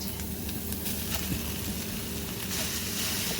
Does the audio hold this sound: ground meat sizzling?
yes